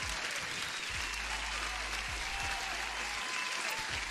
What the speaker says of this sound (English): You deserve an extra applause.